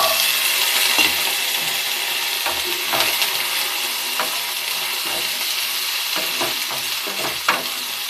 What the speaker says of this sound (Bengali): তেল দিয়ে দিয়েছি কড়াইতে, নারকেলটা একটু ভেজে নেব।